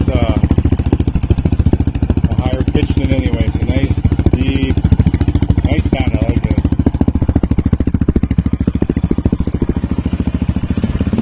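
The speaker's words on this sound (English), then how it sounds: "Let you hear that exhaust though." A Yamaha Raptor 700R ATV's exhaust rumbles loudly at close range, with a steady thumping idle broken by several short throttle blips that rise and fall in pitch.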